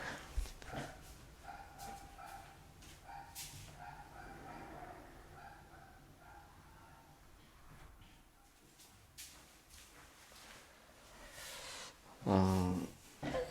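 A lively dog barks from an upstairs apartment, faint and muffled, with scattered yips over a low, quiet background.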